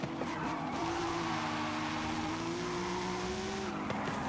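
A 2013 Toyota 86 drifts in the game Forza Horizon 5, its engine droning steadily under a continuous tire squeal that holds through the slide, loud and close.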